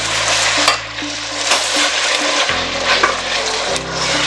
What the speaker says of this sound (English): Now mix. Add a little more coconut milk.